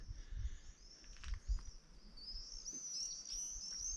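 Birds chirp faintly at sunset in the overgrown ruins of Chernobyl, thin high tweets gradually building into a steadier twittering, over a quiet outdoor hush with a few soft low bumps.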